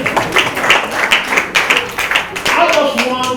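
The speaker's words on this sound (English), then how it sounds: "Give me a big round of applause." Scattered clapping from a crowd in uneven bursts, with voices and cheering mixed in.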